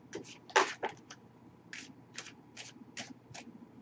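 Tarot cards are shuffled by hand in a quiet room, a few crisp riffling bursts followed by a series of short, evenly spaced flicks, close and fairly soft.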